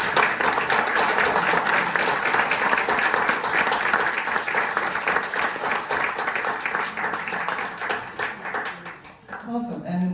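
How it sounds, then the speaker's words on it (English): Sustained applause from an audience at a ChatGPT meetup, dense steady clapping for about nine seconds before thinning out near the end. "please, a big round of applause for"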